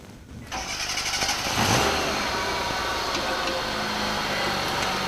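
A car engine with no oil at all in it, filled with an additive lubricant, starts up and then revs before settling into a steady, fairly loud idle close by.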